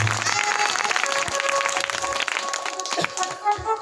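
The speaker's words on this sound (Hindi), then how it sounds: "एक बार जोरदार ताली बजा दी" Enthusiastic audience applause at a Hindu religious katha gathering, a dense continuous wash of many hands clapping with some crowd noise, loud and steady throughout.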